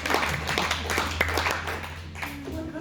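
Audience applause at a church gathering, a burst of clapping with a few sharper distinct claps that fades down as a voice begins speaking over it.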